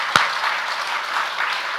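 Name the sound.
congregation applause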